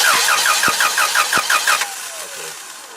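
A forklift engine cranks over during a starting test, with rapid rhythmic starter chugs for nearly two seconds, then a fading mechanical whine, loud and close.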